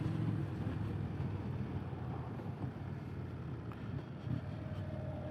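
Wind roars steadily while riding a 2025 Indian Scout Bobber motorcycle, with low rumbling buffeting and engine drone that carries on without a break and no voice heard.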